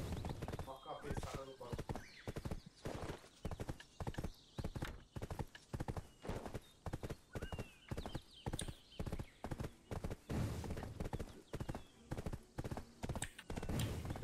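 In the online game Black Desert, a horse gallops with a steady, rapid clip-clop of hooves throughout, loud and continuous, with a brief neigh and players chatting over the hoofbeats.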